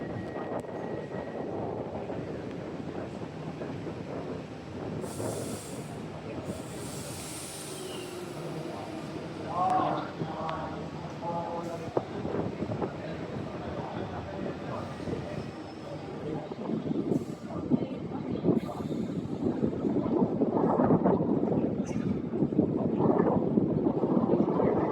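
A C-Series train pulls out of a stadium platform, a broad, steady rumble and rolling roar building gradually over nearly half a minute, with wind noise and faint voices around.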